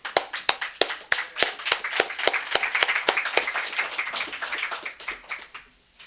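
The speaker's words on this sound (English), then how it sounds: "let's give a clap for Fran." A small audience at an open mic claps for a reader: a few sharp, distinct claps build into a brisk patter of applause, then taper off into quiet.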